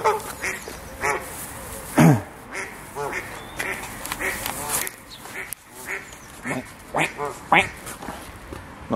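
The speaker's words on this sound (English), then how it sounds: "Oh, come on, ducks." Ducks quack repeatedly in short bursts nearby, mixed with people chatting and calling outdoors.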